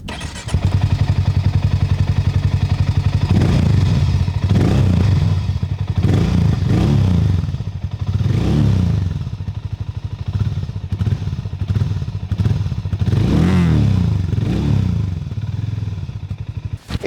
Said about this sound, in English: fire it up and let you hear the sound of this exhaust